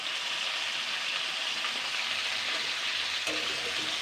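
Pumpkin greens and stalks, already salted, are stirred while frying in a pan. A dense, steady frying hiss runs throughout at an even level, with a faint scrape partway through.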